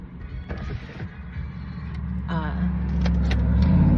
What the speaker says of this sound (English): I gotta start this car so I can crack a window